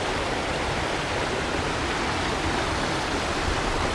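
A river in a New Zealand national park, heard as a steady, dense rushing roar of flowing water that stays constant throughout, with no voices.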